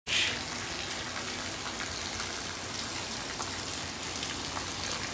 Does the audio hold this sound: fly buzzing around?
no